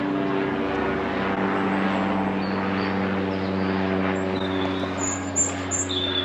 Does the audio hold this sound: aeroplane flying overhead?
yes